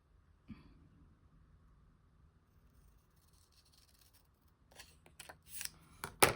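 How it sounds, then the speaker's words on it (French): Scissors cut scrapbook paper for a Harry Potter themed album in a quiet room: a faint snip early, then a cluster of close, crisp cutting and rustling sounds near the end. "Et je viens couper."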